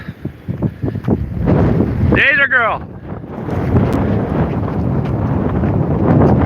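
Wind gusting outdoors, a steady rushing roar buffeting the microphone with loud low rumble, while a person speaks briefly over it.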